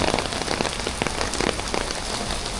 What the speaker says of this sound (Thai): ก็ฝนตกมาเลยสิ